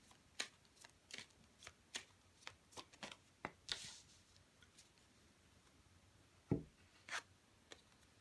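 Tarot cards are handled and drawn, giving a series of close, soft papery flicks and slides in an irregular rhythm, with a brief rustle near the middle and a sharper snap toward the end, with no talking.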